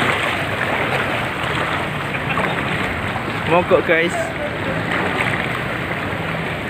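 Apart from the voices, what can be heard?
floodwater waves on a flooded road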